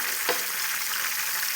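Jackfruit chips fry in hot oil, a dense continuous sizzle close to the pan, with one brief knock near the start and no talking.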